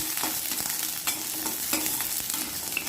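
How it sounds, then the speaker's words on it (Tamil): Small onions sauté in a little oil for a chutney, a steady close sizzle broken by light scraping stirs of a spoon against the pan, with no voices. "கால் கப் அளவுக்கு சின்ன வெங்காயத்தை நான் எடுத்து கொஞ்சமாக எண்ணெய் விட்டு வதக்கிக்கிறேன்"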